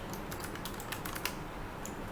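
Keys tapped on a computer keyboard while a message is typed, a quick irregular run of light clicks close by with no talking.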